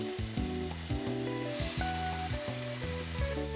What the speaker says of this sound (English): Broil the yellowtail over a medium fire.